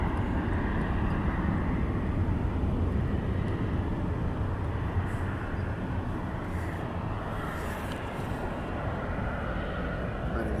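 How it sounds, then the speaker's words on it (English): A Cargo Air Boeing 737 arrives at East Midlands Airport at night, its engines a broad, steady roar with low rumble that holds for the whole stretch, loud and continuous without pauses. "Incoming is Cargo Air 737"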